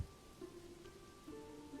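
Rain falling in the medieval city-building game Manor Lords, a faint, steady hiss of rainfall with soft tonal game ambience and no voices.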